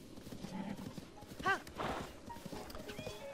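A black horse's hooves clip-clop at a steady walking pace in Zelda: Breath of the Wild on the Wii U, with a short whinny partway through and quiet game ambience underneath.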